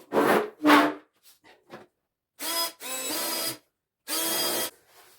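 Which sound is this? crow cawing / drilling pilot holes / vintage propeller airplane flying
drilling pilot holes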